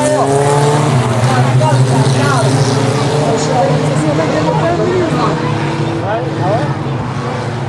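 Several Reliant Robin race cars at an oval track accelerate hard out of turn four, their engines droning loud and close together with rising revs, under continuous commentator talk.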